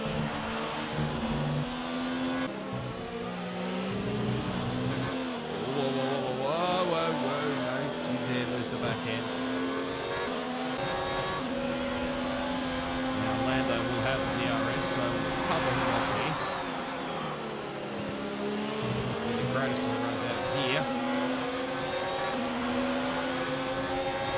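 F1 race car engines in the F1 2019 racing video game scream steadily throughout, with dense high-revving whine and pitch sweeps as cars shift and pass during a race.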